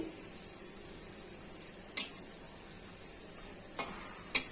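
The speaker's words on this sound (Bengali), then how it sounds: "আলুগুলো ভাজা হয়ে গেছে, এবার আমি তুলে নিচ্ছি" Fried potatoes lifted from hot oil give a low steady sizzle, broken by a few sharp clinks of utensil against the pan.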